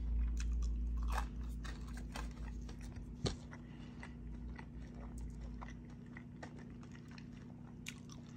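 Crisp green beans with butter being bitten and chewed up close, a run of small crunchy bites and clicks through the clip with one louder crack near the middle, over a steady low hum.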